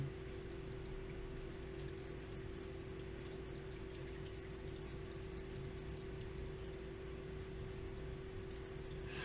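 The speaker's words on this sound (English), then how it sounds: "I believe that that is the sound of my son taking a shower upstairs" Shower water running through basement pipes makes a faint, steady rushing hiss with a low constant hum underneath, continuous throughout with no voices.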